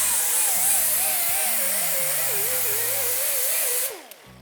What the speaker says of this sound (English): I'm gonna clean off this fender very quickly using a little angled die grinder with a little Scotch-Brite.